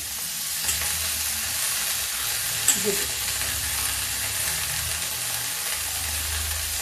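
Soy chunks and greens frying together in a pan for a home-style curry, with a steady broadband sizzle and occasional stirring scrapes, close and continuous throughout.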